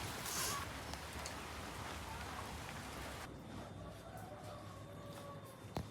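Steady rain falls continuously, a dense even hiss of drops on surfaces that holds at a fairly constant level, with no voices.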